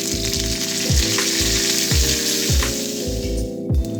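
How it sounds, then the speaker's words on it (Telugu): Curry leaves dropped into hot tempering oil with seeds, garlic and dried red chillies, giving a loud, steady, close sizzle with a crackling spatter throughout. "తాలింపు కొద్దిగా మగ్గిన తర్వాత కరివేపాకు వేసుకోవాలి."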